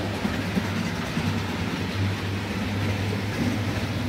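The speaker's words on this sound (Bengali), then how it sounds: "এটা কিন্তু ট্রেন যাচ্ছে এখানে।" A train passes nearby, a continuous low rumbling drone with steady rolling noise throughout, moderately loud and without voices.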